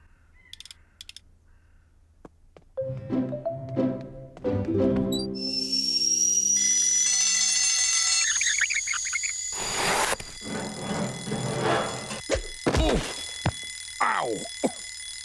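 A homemade, fully automated wake-up machine in a Postman Pat cartoon rings loudly and continuously for several seconds after some mechanical clanking, followed by assorted clatter and cartoon effects.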